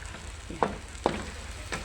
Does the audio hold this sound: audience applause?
no